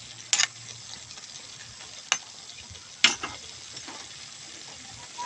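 Food cooking in a pan is stirred in a few short scraping bursts over a low steady sizzle, with quiet gaps between the strokes.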